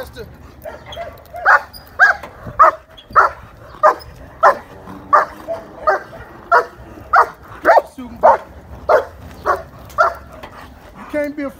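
A dog barks repeatedly in a steady series of sharp, close barks during bite protection training, some with a whining edge, mixed with faint background voices.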